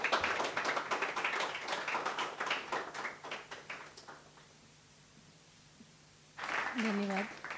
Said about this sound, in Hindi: तो बहुत ज़ोरदार तालियां बजनी चाहिए